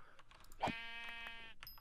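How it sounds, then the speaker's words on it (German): A Minecraft sheep gives one clear, wavering bleat close by, followed by a short faint click and a high tone, with no talking over it. "Hier, hier ist ein Schaf."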